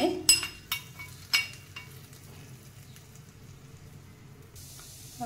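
Garlic and fenugreek seeds are tempered in hot oil for a sponge gourd pickle, giving a soft sizzle with a few sharp clinks and stirring knocks early on, then a steady low frying hiss that fades.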